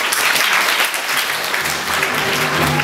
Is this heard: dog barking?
no